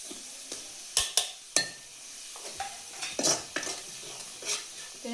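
Onion that has turned reddish-brown sizzles in a pan as spices go in for a fish curry, with scattered sharp metal spoon scrapes and clinks against the pan over a steady low hiss.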